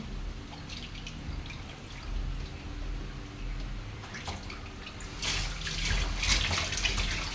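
Water trickles and drips from a tap, then gushes harder into a sink while washing many dishes, a close, splashing flow with no talking.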